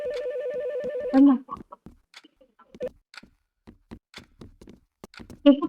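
A telephone rings in the horror game The Morgue Shift, an electronic trill that repeats steadily for about a second, followed by scattered clicks, faint thumps and low background sounds.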